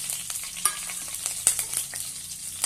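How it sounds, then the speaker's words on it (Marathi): Crushed garlic and chopped green chilies sauté in hot oil in a pan for shepu (dill) bhaji, giving a steady close sizzle broken by light scraping stirs and occasional pops. "छानपैकी परतून घेऊया"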